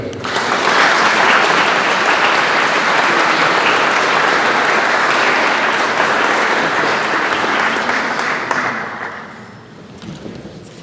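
A hall audience at a 2023 Teachers' Day ceremony for Racibórz county bursts into loud, dense, sustained applause that holds steady, then thins and fades out near the end.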